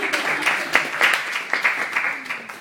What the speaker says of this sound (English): So please give Jake a massive round of applause.